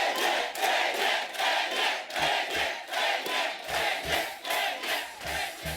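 A studio audience on the Kapil Sharma comedy show greets Ajay Devgn's entrance with rhythmic, chanting cheers. The crowd noise surges in regular pulses, and low drum-like thumps punctuate it in the second half.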